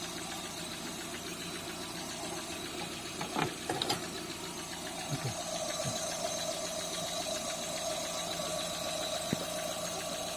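A vehicle engine runs steadily while a car with a battery charge problem is checked, giving a continuous close mechanical hum with a few brief clicks and knocks partway through and no voices.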